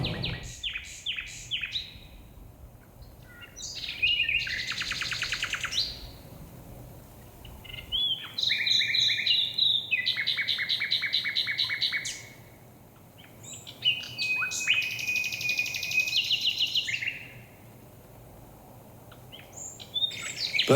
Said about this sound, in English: Birdsong in spring is all about advertising for a mate and proclaiming territory.